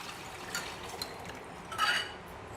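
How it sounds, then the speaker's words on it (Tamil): Tamarind water being poured into tempered onions in a pan for paruppu urundai kuzhambu, a soft, faint liquid splash and trickle with a slightly louder gush near the end. "இந்த புளி கரைசல், அது நல்லா கலந்து விட்டு இந்த வெங்காயம் தாளித்ததில் கொட்டிக்கலாம்"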